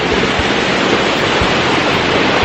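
Ocean surf at Hualalai, Hawaii, washes over black lava rocks in a loud, close, continuous rush, with a few low thuds, and no voices.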